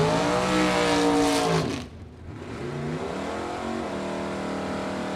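A Camaro drag race car with a big rear wing, driven by Nick Van Beek of Iron Mountain, Michigan, revs hard at a drag strip with loud rising engine harmonics, cuts off briefly, then roars again close by.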